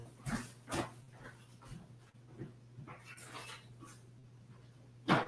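A dog whimpers and pants indoors, soft intermittent whines and breaths at moderate distance over a steady low electrical hum, with one sharper sound near the end.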